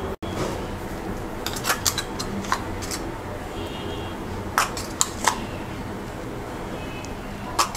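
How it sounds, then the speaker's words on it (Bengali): A spoon taps and clinks against a bowl while banana custard powder is added to milk, scattered light metallic clicks over a soft room background. "এবার এর মধ্যে দিয়ে দিচ্ছি আমি বানানা কাস্টার্ড পাউডার 3 টেবিল চামচ।"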